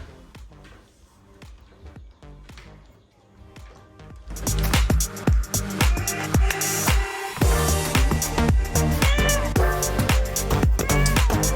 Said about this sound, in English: I think the cat wants me to go inside.